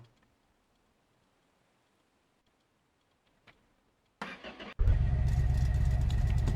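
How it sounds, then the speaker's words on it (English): A car engine is started with the key: near-silence, a faint click, a brief cranking whirr, then the engine catches and settles into a loud, steady idle. "she fired up quite easily. Yeah, at least we know this engine was running"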